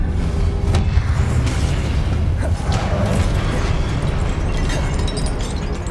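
Continuous booming, rumbling blasts from fire and explosive spells cast in the game Hogwarts Legacy, a dense loud roar with overlapping bursts and crackles throughout.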